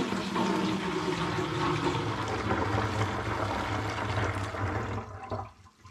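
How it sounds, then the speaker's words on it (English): Home-brewed hops, lime and ginger cider pours from a sanitised jug through a filter in a continuous splashing stream, close by, that tapers to a trickle and stops near the end. "I'm literally dipping"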